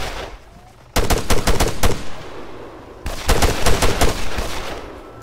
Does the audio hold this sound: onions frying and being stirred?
no